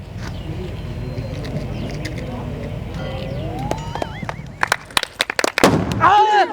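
Loud explosive blasts and cracking bangs burst out in a rapid cluster over a rumbling background, ending in a heavy boom, part of a Gujarati comedy sketch.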